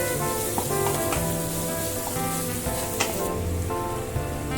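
Chopped onion frying in hot oil in a pan, a loud steady sizzle with occasional crackles and light stirring clatter, close up and with no voices.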